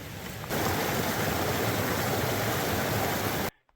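A forest stream rushes steadily and loudly as a broad, constant hiss that starts suddenly and then stops abruptly, with no voices.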